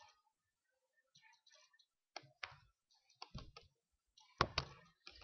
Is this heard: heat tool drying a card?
no